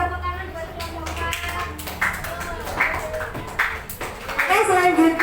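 Students in a classroom clap for a group that has just presented, scattered and uneven hand claps mixed with lively young voices calling out near the microphone.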